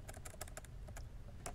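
Quick bursts of keystrokes on a computer keyboard while entering numbers in Maple math software, light and close, in irregular clusters with short pauses, no talking.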